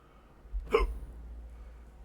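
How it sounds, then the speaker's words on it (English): A single sharp hiccup comes from a man, close and clear in a quiet room, with a low steady hum underneath. "Still got the freaking hiccups."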